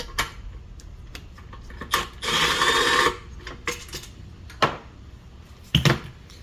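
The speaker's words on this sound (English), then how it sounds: "first let's take off the gas tank" Hand tools working on a Predator 212cc small engine as its gas tank is taken off: scattered close clicks and clunks of metal parts and fasteners, with a louder rasping burst in the middle.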